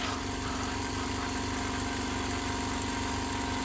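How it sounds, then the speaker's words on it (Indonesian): An Izumi oilless air compressor runs continuously at close range, a loud, dense mechanical drone with a steady rattling pulse underneath that stays constant throughout, without any voices. "Dan ini adalah suara dari kompresor oilless Izumi."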